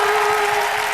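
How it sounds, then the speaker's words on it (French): Audience applause during a French junior Eurovision selection show on television, a dense, steady wash of clapping filling the whole moment at close range. "les applaudir, hein, s'il vous plaît"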